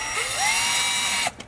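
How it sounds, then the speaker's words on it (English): A Torx T15 driver, used by hand or powered, drives the OBD connector screws back into a Sprinter van dash, giving a steady close mechanical whir with a rising whine that stops abruptly near the end. "We'll screw back in the 2 screws for the OBD connector using the T15 or the Torx 15 driver."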